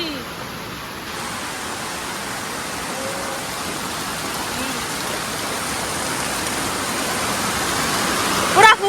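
Heavy rain pours down steadily in a dense, continuous hiss throughout, loud and close, with a brief clatter right at the end.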